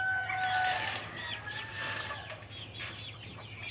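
Broiler chickens cluck faintly at a distance over a low steady hum, with a few higher calls near the start and no one talking.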